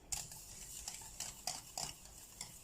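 Metal utensil scraping and stirring around the sides of a pan of Danish brown sauce, a series of rhythmic scrapes and clinks repeated about every half second, close and fairly quiet, with no talking.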